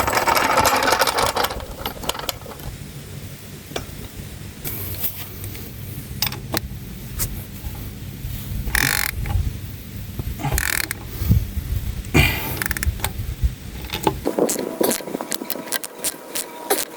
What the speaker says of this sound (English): let's get the trailer lowered back down and get the jack out and fully tighten these bad boys down